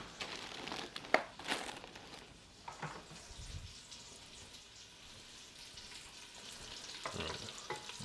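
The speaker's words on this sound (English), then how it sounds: "I'm just gonna brown up that meat." Beef pieces browning in a pan for stew give faint, steady sizzling with occasional soft stirring scrapes and crinkles, fairly quiet and without speech.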